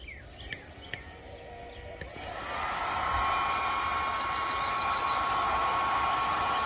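Heat gun on high blowing across the damaged hull surface of a Pelican Apex 80 XE kayak during repair, a steady loud fan-driven whoosh that starts after a couple of seconds of quiet ambience with faint ticks and chirps.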